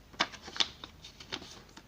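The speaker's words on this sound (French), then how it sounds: "On va avoir une petite enveloppe avec différentes petites cartes à l'intérieur, si j'arrive à les enlever" Small paper cards pulled from an envelope, a few crisp rustles and slides, close and quiet, with short pauses between.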